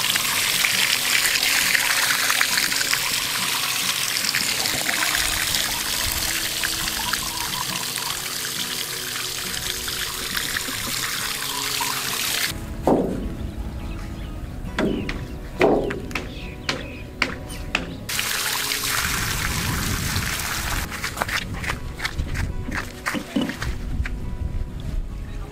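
A homemade pump built from a metal drum draws river water and pours it into the drum, giving a loud continuous gushing rush that later breaks into splashes and trickles, with sharp knocks near the end.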